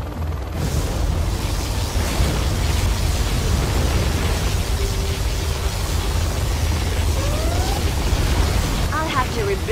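Particle cannon firing and blasting its target in the real-time strategy game Generals Zero Hour, a dense sustained roar of explosion noise filling the whole stretch, with brief whistling tones and crackles near the end.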